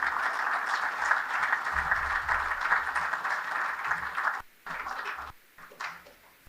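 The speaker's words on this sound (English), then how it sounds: "please join me in giving a round of applause to this year's Youth Coach of the Year" Audience at the AAHA hockey annual awards dinner applauding the Youth Coach of the Year, a steady, dense round of clapping that holds for several seconds, then breaks off abruptly and returns in shorter, thinning bursts.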